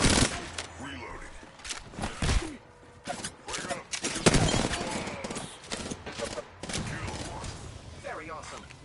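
Gunfire in the battle royale game Apex Legends, with repeated sharp shots and bursts mixed with footsteps and impacts, while a voice talks intermittently underneath.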